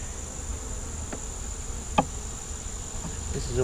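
A giant cicada killer wasp buzzes near a bee hive, a constant close insect drone broken by a few faint clicks and taps.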